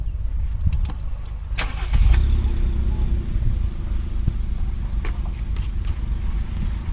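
A Royal Enfield Himalayan motorcycle engine idles in neutral beside an expressway, a low steady rumble with a brief rise in level and scattered knocks and clicks nearby, with voices in the background.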